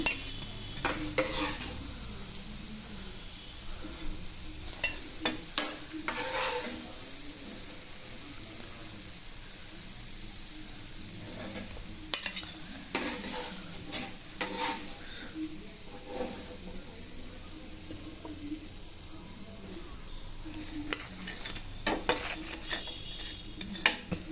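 Cabbage pakoras fry in hot oil with a soft, continuous sizzle. Occasional clinks of a utensil stirring in the pan come through, all fairly faint and close.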